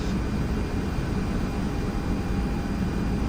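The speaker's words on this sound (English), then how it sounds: "Since we're entering the runway, we'll do a rolling takeoff." An Airbus A330neo in the Toliss flight simulator makes a rolling takeoff, its engines giving a loud, steady broadband roar that stays unbroken for a few seconds with no talking.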